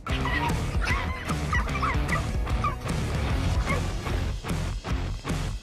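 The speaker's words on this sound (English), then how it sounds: "this unfortunate dog was the victim of an attack by aggressive monkeys" A dog yelps, barks and whimpers while being attacked by aggressive monkeys, loud, close and chaotic, with thuds and crashing scuffles filling the whole stretch.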